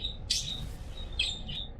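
Birds chirping outdoors in short, bright bursts against a low background hum, fairly faint and with no talking.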